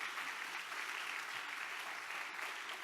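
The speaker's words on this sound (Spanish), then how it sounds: "Dele ese fuerte aplauso al Señor Jesucristo, gloria a Dios." A church congregation applauds during a sermon, a dense, even wash of clapping sounding faint and distant, continuous for the short stretch.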